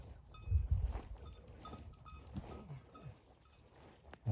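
Goats on a homestead, heard as faint low bleats and shuffling farm noise, with a louder burst early on and a soft call near the end.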